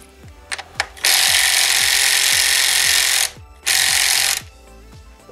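A cordless power tool with a 10mm socket removes the valve cover bolts on a BMW E46, giving two loud, close, sustained whirring bursts after a few short clicks, with a steady mechanical ticking underneath.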